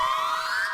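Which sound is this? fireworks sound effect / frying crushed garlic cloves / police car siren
police car siren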